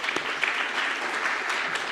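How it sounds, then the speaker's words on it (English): Conference audience clapping for a panel speaker, a brief, moderate patter of many hands heard from a distance, steady and unbroken. "A round of applause for Brenda again, please"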